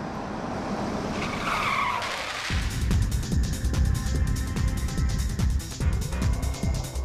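A car drives along a road and passes over an armadillo. A loud engine and tire roar swells in partway through, with rough, squealing road noise continuing steadily to the end.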